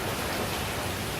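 Steady, heavy rain on Pulau Ubin in Singapore hisses continuously, heard from under a shelter as a dense, even wash with no pauses.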